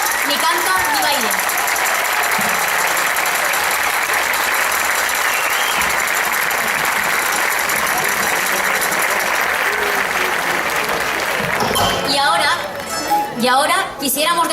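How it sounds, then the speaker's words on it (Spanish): Sustained loud applause from a folk festival audience in Puerto de Sagunto, Valencia, honoring the rondalla string musicians, steady clapping filling the space before thinning out near the end as voices and chatter emerge. "quisiéramos pedirles un fuerte aplauso a nuestros compañeros de la rondalla, dirigida por Jesús Monleón"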